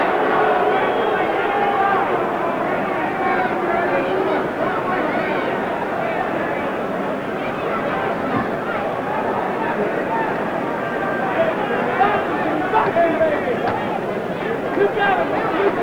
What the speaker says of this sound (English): Noise from the crowd, but a dull round.